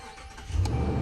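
A car engine with an intermittent no-crank, no-start fault cranks briefly and catches, rising into a loud, rumbling idle up close.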